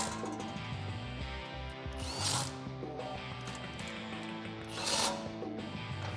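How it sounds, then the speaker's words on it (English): An 8mm socket ratchet tightens bolts while installing a front leveling kit on a Ford F150, steady clicking over background music, with two brief louder metallic swells. "grab your 8 socket and tighten them down."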